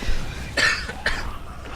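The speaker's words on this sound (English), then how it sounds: "As I keep coughing because my voice is lost" Two short coughs, about half a second apart, over a quiet background.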